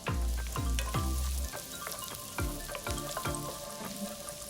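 Garlic and lemongrass sauté in olive oil and butter over the heat, sizzling steadily in the pan under a series of sharp, resonant clanks and taps of utensils against cookware.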